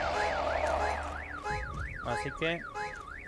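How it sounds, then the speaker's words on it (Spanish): An alarm in the video game Walking Zombie 2 wails in a rapid rising-and-falling electronic whoop, loud and continuous, with a brief spoken phrase and other game noises breaking in partway through. "se ha activado la alarma"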